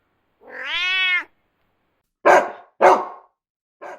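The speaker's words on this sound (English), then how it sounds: "C. Cat." A single cat meows once, a clear, drawn-out tonal call held for about a second, followed by a few short, loud barks from a dog.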